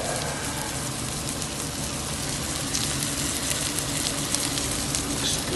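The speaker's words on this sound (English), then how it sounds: "So today, went to the market and cooking some white fish" White fish frying in a pan gives off a steady, even sizzle that runs close and continuous throughout, with no voices.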